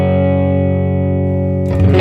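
Electric guitar tone through a Nano Cortex with a low-pass filter, a sustained distorted chord ringing loud and dark before a new strummed attack breaks in near the end.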